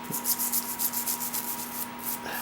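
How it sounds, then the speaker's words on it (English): A brush scrubs loosened, soaked paint off a metal plug from a milling machine restoration. Quick, rhythmic back-and-forth bristle strokes sound close and loud over a steady electrical hum. "Let me hit it here with the brush."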